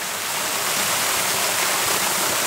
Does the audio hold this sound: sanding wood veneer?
no